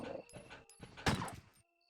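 Dogs in the Resident Evil: Director's Cut video game give a quick run of snarling barks and yelps, fairly close and clear against otherwise quiet game ambience.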